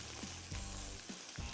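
Chicken wings with red chillies fry in a pan, giving a faint, continuous sizzle with a few soft scraping or clicking sounds from stirring, no voices.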